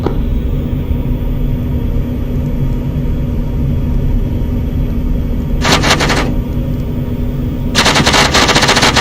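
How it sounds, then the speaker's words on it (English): Rapid bursts of aircraft cannon fire in the Arma 3 combat game, two loud rattling volleys over a steady engine rumble, the second burst running to the end. "I can't seem to lock the enemy with my missiles. I'm engaging with guns."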